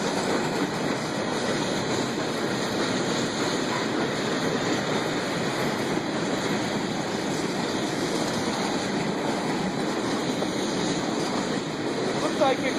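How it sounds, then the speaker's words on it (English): A short freight train hauled by Norfolk Southern locomotives passes with a steady, even rumble and hiss of rolling cars, moderately loud and unbroken, with faint talk underneath. "Looks like it's Norfolk Southern motor power pulling a bunch of Conrail."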